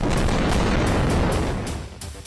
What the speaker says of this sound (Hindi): गाजा पट्टी पर केमिकल बम फायर किए जा रहे हैं